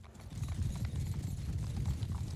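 Horse hooves gallop steadily in the Bannerlord video game, a dense, continuous clip-clop of cavalry drumming at moderate volume with no voices over it.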